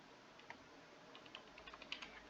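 Faint, quick clicks of a computer keyboard as someone types a short search entry, light irregular keystrokes in a quiet room.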